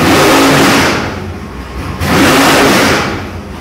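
A Ford 440 V8 built by Nelson Racing Engines screams on a dyno, bouncing on the rev limiter. The roar is loud, close and continuous, with two surging pulses of high revs.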